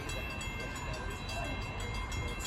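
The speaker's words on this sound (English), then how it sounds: "And here comes our train." A commuter train pulls into a station on the Morristown line in New Jersey, a steady loud rumble of wheels and engine that fills the whole moment without a break.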